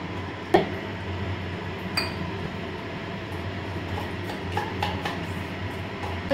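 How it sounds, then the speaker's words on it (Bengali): Kitchen chimney exhaust hood fan running steadily, a constant broadband whooshing drone close by, with a few faint clinks of utensils over it. "চালিয়ে দিয়েছি চিমনি। এখন আমাকে একটু জোরে জোরে কথা বলতে হবে"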